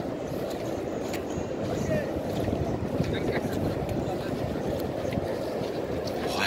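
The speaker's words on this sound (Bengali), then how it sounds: "নিশ্চয়ই সমুদ্রের আওয়াজটা গর্জনটা পাচ্ছ" At Bakkhali beach the sea sends up a low, continuous roaring rumble, mixed with wind buffeting the microphone and some talking.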